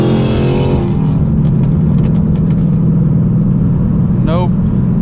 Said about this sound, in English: it is a pretty loud Hellcat